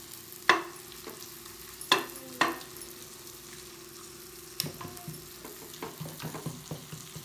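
Oil sizzles and crackles steadily as cumin and coriander seeds are tempered, with a few sharp clanks of a spoon against the pan.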